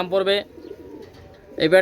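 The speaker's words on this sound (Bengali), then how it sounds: "একজোড়া কবুতর দেখেন, একজোড়া বেনারস কবুতর।" A pair of Benaras pigeons coo close by, two throaty rolling calls opening and closing the moment, with a quiet stretch of soft low murmur in between.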